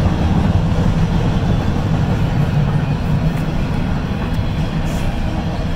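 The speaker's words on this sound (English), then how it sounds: "Yeah, the locomotive." A train locomotive rolls past at a scrap metal yard, a steady loud low rumble filling the whole clip with no clear beginning or end.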